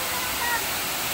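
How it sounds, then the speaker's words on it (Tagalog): Tarangban Falls in Samar gives a brief, steady rushing roar of falling water, close and even. "Now we are here in Tarangpan Falls."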